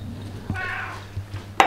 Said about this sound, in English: the cat is watching